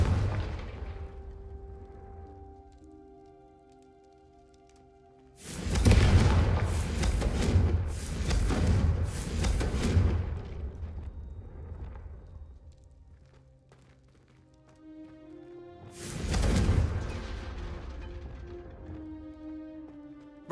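A Confringo fire spell cast in the Hogwarts Legacy video game, heard as two loud, roaring explosive bursts several seconds apart, each rumbling out over a quiet ambient background.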